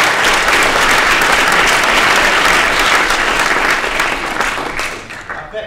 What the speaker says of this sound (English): you didn't think you'd be clapping a man who broke an egg